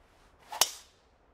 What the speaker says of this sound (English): It's a nice looking tee shot.